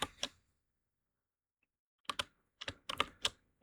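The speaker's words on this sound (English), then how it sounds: "I have to like type this stuff." Several short bursts of computer keyboard typing, close and fairly quiet, separated by a long silent pause.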